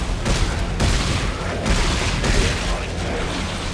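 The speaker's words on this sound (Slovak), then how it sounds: "Mohol by si po mne prestať strieľať" Enemy gunfire in the sci-fi horror video game Dead Space 3, loud bursts of shots and booming impacts in several clusters amid heavy mechanical noise, with a voice talking faintly in places.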